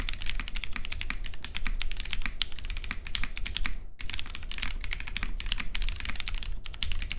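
Typing on a Tiger 80 Lite budget mechanical keyboard, with a steady, fast stream of crisp key clacks close to the mic and a brief pause partway through.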